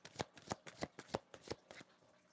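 Oracle cards being shuffled by hand, a quick run of about eight soft riffling bursts in an even rhythm, close and quiet, with no talking.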